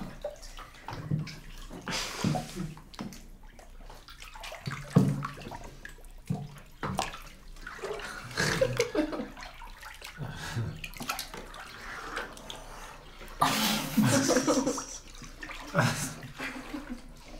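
Warm shower water runs steadily with splashing and gurgling surges, under and between a few quiet spoken exchanges.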